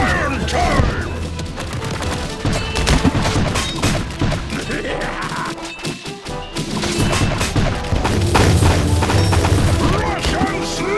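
Rapid musket tower gunfire in the Kingdom Rush tower-defence game, Rotten Forest stage, a dense loud volley of shots and booms layered over game music, with a voice talking over the action.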